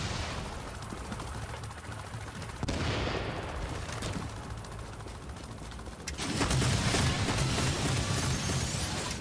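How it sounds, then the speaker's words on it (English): Sustained rapid turret gunfire in The Division, a dense continuous rattle of shots that swells louder and harsher in the final few seconds, with no talking. "I didn't know we can use these turrets again and again."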